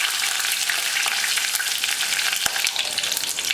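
Fennel seeds, dried red chillies, curry leaves and garlic frying in hot oil give a steady, close, loud crackling sizzle that runs throughout, with one brief sharper pop near the end and no voices.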